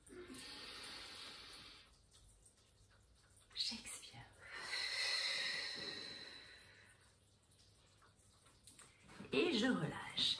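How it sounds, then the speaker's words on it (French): Slow deep breaths during a guided relaxation exercise, long airy inhales and exhales coming in several separate swells with quiet gaps between them. No words are spoken. "j'inspire, j'expire"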